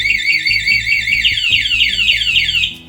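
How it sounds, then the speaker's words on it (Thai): Anti-theft alarm on a Yamaha NMAX 155 scooter wails loud and close, a shrill repeating warble of rising sweeps that runs continuously for nearly three seconds before cutting off abruptly. "ล็อกแบบมีเสียงคือคนมาโดนหรือขยับรถเล่นรถเรานะก็จะมีเสียงร้องเตือนก่อนนะครั้งแรก"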